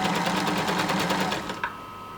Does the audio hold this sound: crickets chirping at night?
no